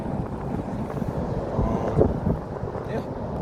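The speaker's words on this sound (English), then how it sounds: "It's pretty windy today" Steady wind buffets the microphone at a fishing spot, a constant low rumbling roar through the whole stretch with a few stronger gusts, and no clear talk over it.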